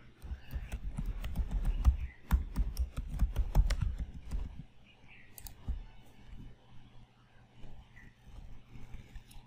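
Computer keyboard keys and mouse clicks tap in quick bursts at close range, dense rapid typing for about four seconds, then a few scattered clicks over quiet background.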